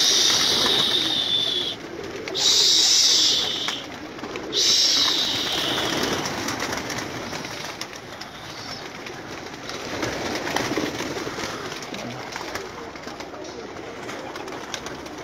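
Pigeons, including desi breeds, in a rooftop loft give a steady chorus of coos and calls with sharper chirps in the first few seconds, moderately near, over a continuous background murmur.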